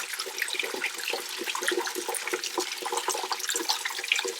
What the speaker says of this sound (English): I'm opening the valve to let the water flow out faster